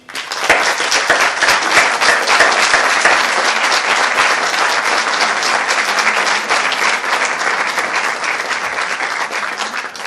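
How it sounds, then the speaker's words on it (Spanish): Dense, loud applause fills a lecture hall on psychophonies in Agost, Alicante, sustained clapping from a large audience for about ten seconds without talk. "Un aplauso."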